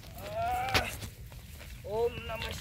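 A sheep bleats twice while being bathed in a pond, wavering calls separated by a short pause, with a sharp knock between them and low background noise.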